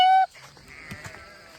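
Sheep on summer pasture give one loud, clear, near bleat at the start, followed by a fainter, busier mix of distant bleats and rustling farmyard noise.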